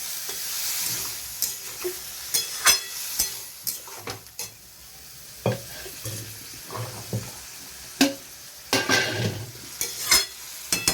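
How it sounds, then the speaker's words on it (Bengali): Bottle gourd and prawns are stirred in a frying pan, with a quiet sizzle under frequent sharp scrapes and clacks of the spatula, irregular and close, and no speech. "লাউটা দিয়ে আমি এইবারে একটু নেড়ে চেড়ে নিয়ে চাপা দিয়ে দেবো।"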